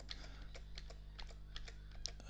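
Arrow keys on a computer keyboard are pressed in a steady series of about a dozen soft clicks, evenly spaced and quiet over a low constant hum.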